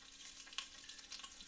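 Bacon strips pan-fried in a home kitchen, a faint steady sizzle with soft crackles and small pops as the strips are flipped with a fork.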